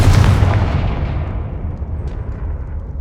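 A Confringo blasting spell explosion in Hogwarts Legacy, with one loud, close, deep boom at the start that rumbles and slowly decays over several seconds.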